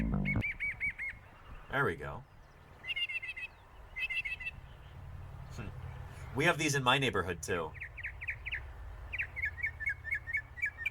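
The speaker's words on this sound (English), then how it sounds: "That sounds like a mockingbird." A mockingbird's varied, repeated chirps and whistled phrases ring out clearly between bursts of nearby speech, with added music underneath and short rhythmic trills toward the end.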